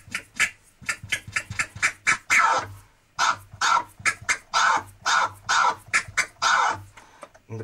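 Rapid, rhythmic record scratching, with short chopped bursts pushed back and forth, loud and close, and a brief pause partway through.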